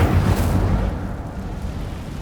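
Incendio fire spell cast in Hogwarts Legacy, a loud, dense whooshing burst of flame with deep rumble that gradually fades over two seconds.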